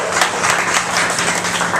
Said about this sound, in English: Let's give Stardust a round of applause even before we get started.